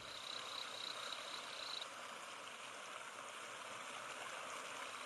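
A steady, broad roar of rushing water from a waterfall in Brazil's Atlantic Forest fills the whole stretch, constant and even, with a faint high chirp briefly over it early on.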